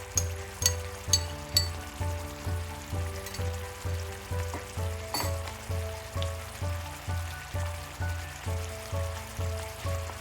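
Garlic-ginger paste hits hot oil for a yogurt jackfruit curry, giving a steady close sizzle that swells in regular pulses about twice a second, with a faint clink near the start.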